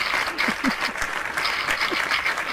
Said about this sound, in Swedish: En stor applåd till Anna och Inger.